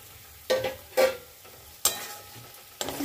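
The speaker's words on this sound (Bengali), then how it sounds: "লবণ, মশলাটা কষানো হয়ে গেছে। এর মধ্যে আমি ফুলকপি আর আলুটা দিয়ে দেব।" Cauliflower and potato pieces drop into a pan of hot, sizzling spices, giving several sharp, close hissing bursts spaced about a second apart, each settling into a softer sizzle.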